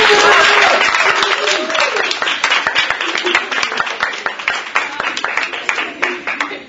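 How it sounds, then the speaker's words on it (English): Parents at a kindergarten event clap for the students in a dense, sustained round of applause that lasts throughout, with voices and cheering mixed in. "let's give them another round of applause"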